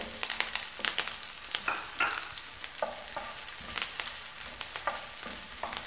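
Green chilies stir-fried in a pan for Gobi Manchurian, with a soft sizzle under repeated sharp scrapes and stirring clatter from a spatula at a quick, uneven rhythm, with no talk.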